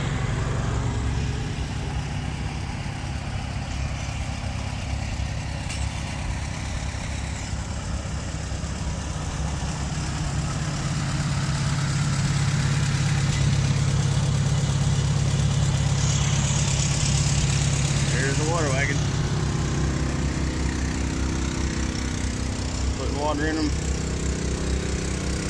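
A big old Avery threshing tractor engine runs steadily at an old threshers reunion, a low continuous rumble with a louder swell midway, under outdoor crowd noise and nearby talk.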